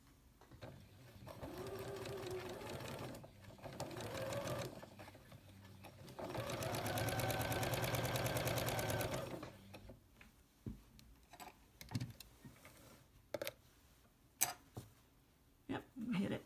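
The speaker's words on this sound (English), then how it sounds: "we're going to stitch from the corner to the corner underneath" A sewing machine stitches across the joined ends of quilt binding in two steady whirring runs, the second longer, followed by quieter clicks and handling sounds.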